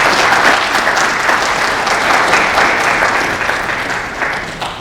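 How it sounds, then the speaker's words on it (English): An audience at a high school athletics signing day at Lakeland applauds the families, a loud continuous wash of many hands clapping that holds steady and eases slightly at the end. "So student athletes, take a minute, give your families a round of applause,"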